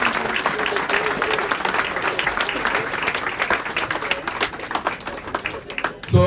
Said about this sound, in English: So I think that's a round of applause for two promotions